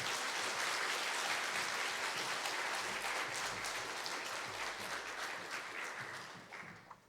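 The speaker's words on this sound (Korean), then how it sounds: "큰 박수로 한번 우리 환영하겠습니다." A church congregation at a Sunday morning Reformation Day service applauds to welcome a visiting preacher, a dense, steady wash of many hands clapping that fades toward the end.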